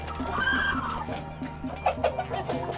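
Several breeding hens cluck close by in their cages, giving short, uneven bursts of clucking and a few louder squawks, with no voices.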